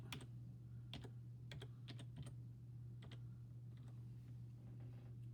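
Quiet bursts of keystrokes on a computer keyboard as a password is entered at a login screen, tapping in short irregular clusters over a steady low electrical hum.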